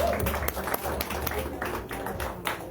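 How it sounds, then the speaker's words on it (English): Audience applause after a stand-up comedy set at a comedy club, a steady dense wash of clapping from a crowd that holds through the whole stretch with a few sharper claps standing out. "clapping it up for Mr. Jake Vanderwall."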